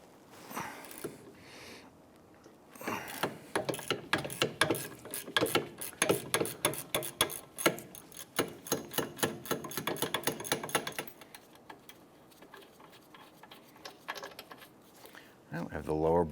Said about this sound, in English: On the back side, there's two 15mm bolts. And get a ratchet on there.